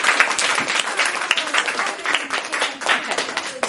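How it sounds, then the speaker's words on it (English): A classroom full of students claps in dense, continuous applause, close and lively with uneven hand claps piling over one another for the whole stretch. "Let's give him a round of applause."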